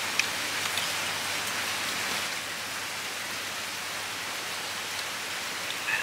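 Steady rain falls outdoors on a rainy afternoon, a constant, even wash of patter with no talking.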